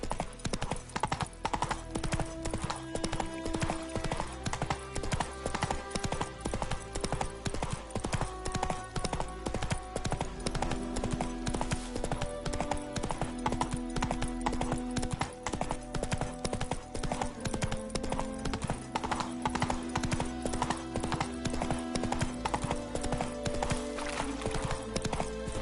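Roach the horse trots in The Witcher III, a continuous rhythmic clip-clop of hooves with game music playing underneath throughout.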